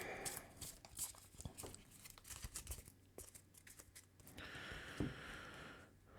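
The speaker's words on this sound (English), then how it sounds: "give it a quick shuffle here." A deck of playing cards for a Marvel Champions card game gets a quick shuffle, with soft riffling, crinkly rustles and a few sharp snaps, close but quiet, and no voices.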